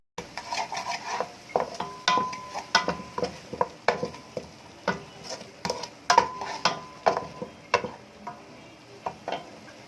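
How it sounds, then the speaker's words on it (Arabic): A utensil stirs a chicken tray dish in a pan, giving repeated close scraping and clinking strokes in a fairly regular rhythm over a soft sizzle. "نقلب بقى كويس قوي كده"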